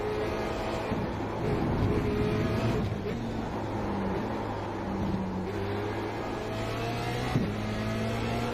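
A Formula Renault 2.0 race car engine at Silverstone in the iRacing sim drones steadily, its pitch shifting through gear changes and revs, with a voice talking over it for part of the stretch.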